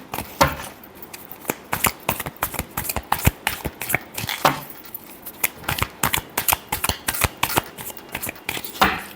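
Tarot cards shuffled by hand for a love reading, a close, steady run of crisp riffling clicks and flicks in quick bursts, with no talking.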